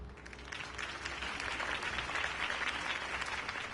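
Crowd applause greets Harvey Dent's campaign speech in Batman: The Telltale Series, a steady, dense wash of clapping from a large audience that holds at an even level throughout.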